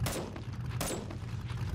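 Two sharp gunshots fired at a bear in the zombie survival game 7 Days to Die, close and loud, spaced under a second apart over a low rumbling background.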